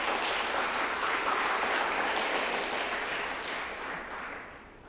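A church congregation at a Sunday service applauding to thank their pastor, with dense, steady clapping that slowly tapers off toward the end.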